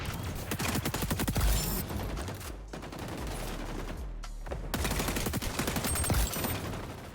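MDR assault rifle in the shooter game XDefiant firing rapid automatic bursts, loud and close, with two short pauses between strings of fire.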